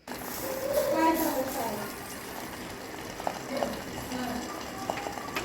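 Water sprinkled into boiling homemade ghee set off a busy crackle and spatter, loudest early and then settling into a steady sputtering fry with scattered pops, close by with no talking.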